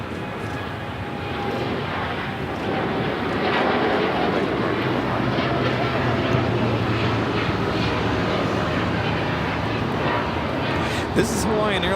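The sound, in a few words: Hawaiian Airlines Boeing 787-9 Dreamliner taking off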